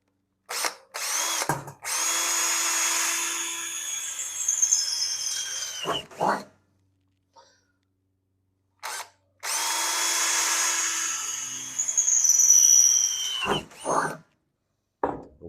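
A power drill drills holes in a metal electrical panel during a generator inlet installation. Two long, close, steady whining runs are separated by short bursts and quiet gaps.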